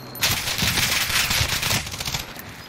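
Rapid automatic gunfire in Call of Duty: Warzone, a loud fast burst of closely spaced shots lasting about two seconds before tapering into scattered pops.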